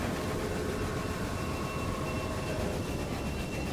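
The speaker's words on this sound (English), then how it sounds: "There's a meat train going through there, look." A train rumbles past in the Railway Empire video game, a steady, dense mechanical roar with faint tonal whine that holds at constant loudness throughout, with no voices.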